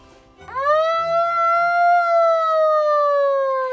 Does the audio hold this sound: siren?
yes